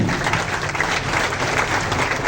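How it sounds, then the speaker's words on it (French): Audience applause at a high school prize-giving for top-scoring students on the first day of the school year, a dense, steady wash of many hands clapping at close range with no voices over it. "Sous vos applaudissements, nous accueillons Florial Lovely"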